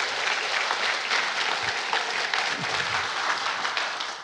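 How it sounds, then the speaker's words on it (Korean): Applause from an audience at a lecture on citizen history, a steady, dense crackle of many clapping hands held at an even level for about four seconds, close and alone. "큰 박수로 자리로 모시겠습니다."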